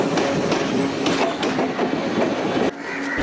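A train rolls along its rails with passengers aboard, making a steady, loud rumble and rattle throughout with a rhythmic clickety-clack of wheels and a brief dip near the end; no voices are heard.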